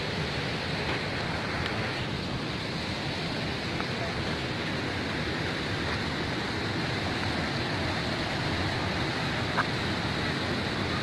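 Shali river water flows in a continuous, even rushing wash, steady and moderately loud for the whole stretch with no talk over it.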